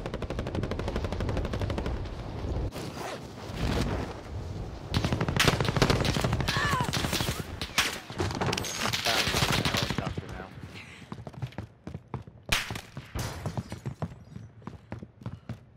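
Gunfire in Call of Duty Warzone rings out in rapid automatic bursts and single sharp shots, loud and close, with gaps between volleys and voices talking over parts of it.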